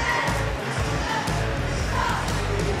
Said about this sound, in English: As the crowd is starting to file in, tonight's game is sold out.